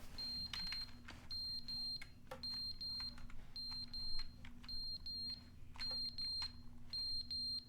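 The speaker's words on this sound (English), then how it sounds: "That's a smoke alarm?" A smoke alarm chirps in short, high, repeated beep bursts with brief pauses between them, heard faintly over a low steady hum in a quiet room.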